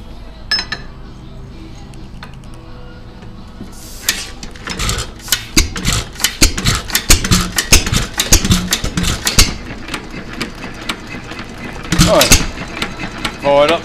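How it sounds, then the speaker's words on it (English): A United 2.5HP hit-and-miss engine cranked and fired on its first try, now running a little rich while cold, its rapid mechanical clatter and irregular firing beats close by, with someone talking over it. "Fired up straight away."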